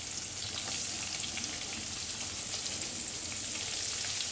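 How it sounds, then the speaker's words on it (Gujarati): Onion pieces sauté in hot oil with green chillies for a South Indian sambar, making a steady, dense sizzle and crackle that holds even throughout with no talking. "ડુંગળીને સરસ સાતળી લેવાની છે."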